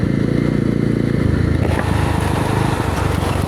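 A Yezdi Roadster 334cc motorcycle runs loud and close while being ridden, with a steady engine drone that shifts partway through, as if it changes gear.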